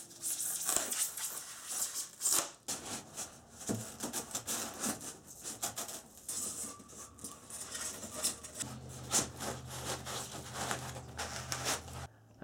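A wood panel being cut with a hand saw, rough rasping strokes rubbing steadily back and forth, fairly close, with a low hum joining near the end.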